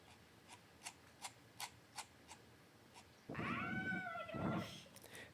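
A cat at a computer desk gives a drawn-out meow-like caterwaul in the second half, close and fairly loud, after a series of faint regular rubbing or scratching ticks.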